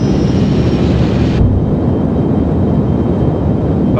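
Delta Glider turbo pump engine at full power in a flight simulator, a loud, steady jet roar that turns slightly duller partway through and continues without pause.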